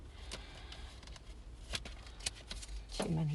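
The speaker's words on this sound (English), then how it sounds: "We are shuffling for Capricorn." A deck of tarot cards is shuffled by hand with soft, continuous riffling and a few sharper flicks, fairly quiet and close, ending with a brief voiced sound.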